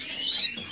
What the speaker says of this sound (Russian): там еще кричат птички